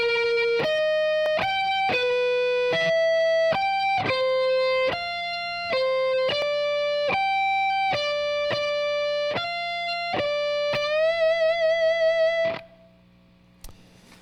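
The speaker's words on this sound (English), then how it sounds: "There's kind of a violin-like twin guitar part that happens behind the vocals." Twin lead electric guitar line through a Mesa Boogie Triaxis preamp, playing a violin-like part: sustained, distorted notes stepping through a melody in steady phrases, ending in a vibrato-laden held note before cutting off.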